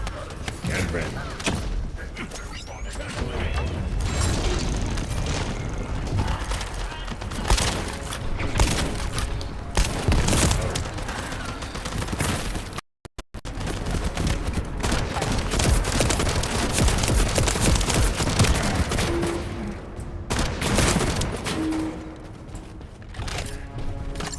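Grenade explosions and gunfire in The First Descendant video game: dense bursts of shots and booming blasts, loud and continuous, with one sudden brief dropout midway.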